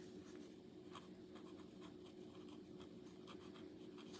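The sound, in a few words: fountain pen writing on paper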